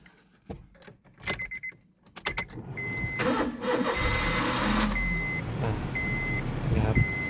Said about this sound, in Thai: มาฟังเสียงเครื่องยนต์กันนะครับว่า ตัว CNG นะครับ